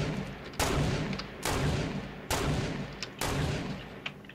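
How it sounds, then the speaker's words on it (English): Gunfire in the video game Fortnite, four heavy, sharp shots evenly spaced about a second apart, each with a booming tail that fades quickly, over faint background noise and no talk. "Somebody shooting at you?"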